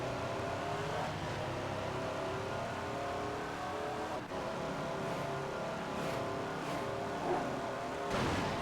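Race car engines in a racing video game hold a steady, loud drone, with revving rises and a few quick pass-bys over it and no voices.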